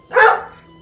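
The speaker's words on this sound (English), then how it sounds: "That's my dog." A single sharp dog bark, loud and close, during a tabletop role-playing session held over a voice call.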